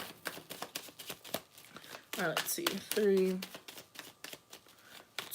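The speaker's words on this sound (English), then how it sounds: "So I'm going to keep shuffling." Tarot cards being shuffled by hand, a run of quick papery riffles and soft slaps in steady bursts, close up, with a voice talking and counting over part of it.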